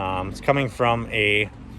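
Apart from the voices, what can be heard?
No everyday noises stand out.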